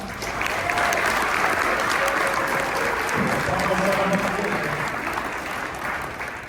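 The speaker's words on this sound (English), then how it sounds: "please give them a round of applause right now" A large crowd of students and families at a school promotion ceremony claps steadily throughout, a dense, continuous applause that fades slightly toward the end, with some voices and cheers mixed in beneath.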